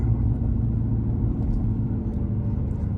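Low, rumbling car exhaust burble while creeping along in traffic, a steady throaty drone close to the cabin with slight pulsing and no talk.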